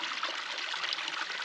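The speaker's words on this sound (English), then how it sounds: "I'm blessed to be next to this creek that has actual running water." Running water of a creek in Tonto National Forest, Arizona, burbles and trickles steadily up close, a continuous bright wash with no voices.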